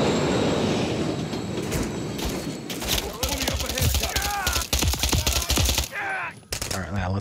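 A train rumbles past in the Modern Warfare III video game, a dense clattering roar mixed with rapid gunfire and voices shouting over the action.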